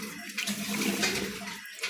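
Water splashes steadily as something is washed with pond water, a continuous close sloshing and trickling that lasts under two seconds.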